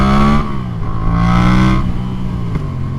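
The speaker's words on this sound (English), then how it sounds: "This bike has a V-twin sound." A Yamaha FZ-07 motorcycle engine with stock exhaust revs loudly and close by, rising and falling in a few throttle blips with a deep, throbbing twin-cylinder tone.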